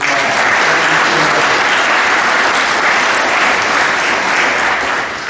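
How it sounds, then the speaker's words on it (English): Loud, continuous applause rolls through a crowd at a school spring sports awards assembly, many people clapping at a steady level before it eases slightly at the close. "So give Lillian a round of applause"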